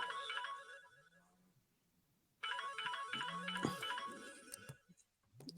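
A phone ringtone plays in two bursts of bright repeating melodic tones separated by a brief pause, moderately loud, with a low voice murmuring underneath.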